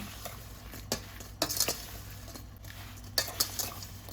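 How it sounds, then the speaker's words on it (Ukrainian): A spoon stirs sweet strudel filling in a bowl, giving a few sharp clinks and scrapes against the bowl at irregular intervals over a low steady hum, close up with no one talking. "Тепер все це дуже добре перемішуємо."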